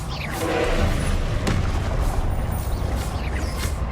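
Confringo blasting-spell explosions in Hogwarts Legacy, a continuous loud rumble of booming blasts and impacts with sharp cracks layered through, dense and close.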